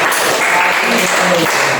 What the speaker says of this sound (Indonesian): Boleh tepuk tangan untuk Kiel